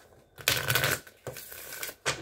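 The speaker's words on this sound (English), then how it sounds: "One more shuffle." Playing cards riffle in quick, crisp bursts, three short shuffles close by with brief pauses between them.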